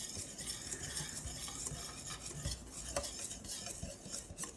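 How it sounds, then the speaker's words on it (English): A whisk beats eggs and buttermilk together in a bowl for a chocolate cake batter, giving quick, steady scraping and stirring strokes against the sides with light clinks and no talk. "Now we're going to mix this together with a whisk"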